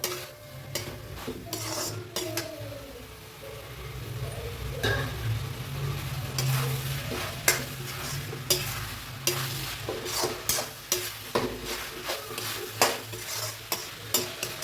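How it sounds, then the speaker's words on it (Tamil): Okra sautéing in masala in a pan, a soft continuous sizzle broken by frequent scraping and clinking of a spoon stirring against the metal pan. "இந்த மசாலாவில் நல்லா வதங்கட்டும்."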